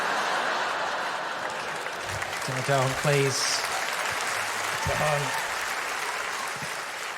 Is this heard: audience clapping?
yes